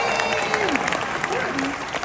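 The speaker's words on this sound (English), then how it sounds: "Let's give a big round of applause for Serena and Arvizu" An audience at a Disney's Hollywood Studios 35th anniversary show with Kermit and Miss Piggy breaks into dense, sustained applause and cheering, loud and continuous, with a voice speaking over the crowd.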